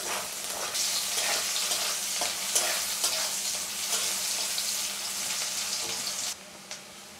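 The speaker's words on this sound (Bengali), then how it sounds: "আর দিলাম পেঁয়াজ কুচি। পেঁয়াজটা লাল করে ভেজে নিব।" Chopped onions frying in a pan, a close, bright hiss of sizzling oil with light stirring taps, steady for about six seconds before abruptly dropping to a quieter background, no voices.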